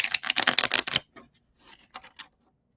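A deck of playing cards is shuffled close up during a tarot reading: a quick rattling riffle for about a second, then a few scattered light card taps and slides.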